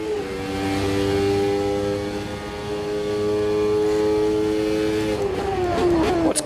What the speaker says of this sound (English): What's cool is that all this engine sound is coming out of my rear speakers.